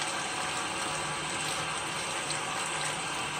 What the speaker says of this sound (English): a little water leakage down in there.